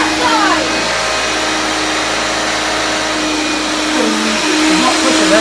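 A 1975 Hoover Dial-a-Matic upright vacuum cleaner with automatic power drive, its motor running as a steady loud whine and roar throughout, with faint voices underneath.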